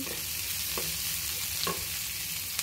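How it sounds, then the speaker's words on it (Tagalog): Ginger, onion and garlic sizzle in a hot pan for pakbet, a steady close frying hiss with a few soft scraping taps of the stirring utensil. "Lalagay natin ang ating ginger, onion, ating garlic, onion, yan. Halo-haloin natin."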